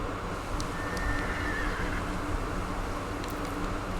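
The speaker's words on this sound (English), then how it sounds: "Where's my horse?" A horse whinnies once in the video game Ghost of Tsushima, a clear mid-length neigh rising over steady background game ambience, with no talking.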